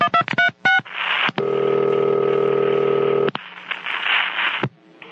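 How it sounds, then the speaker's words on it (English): Telephone dialing: a quick run of touch-tone beeps, then a long steady tone with clicks, followed by a faint ringing line, all loud and close with no talking. "let's get Lou Philpott on the phone here."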